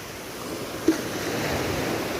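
Ocean waves at Pulau Panjang beach in West Pasaman, Sumatra, a steady soft wash of surf with a faint wind rush, continuous and fairly close, no voices.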